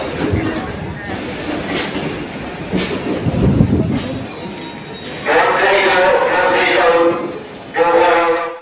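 A nearly empty passenger train in West Bengal rumbles steadily along the rails with rhythmic clatter and brief metallic squeals, while someone talks over the noise inside the carriage.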